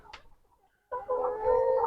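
A brief cackle, a short pause, then a steady chorus of about a thousand cage-free layer hens clucking together nearby in a densely packed poultry farm.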